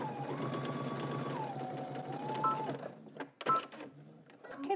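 A sewing machine back-stitches a casing on a pants pattern, its motor humming steadily with a clear change in pitch midway. It then stops, leaving a few rustles and handling knocks close by.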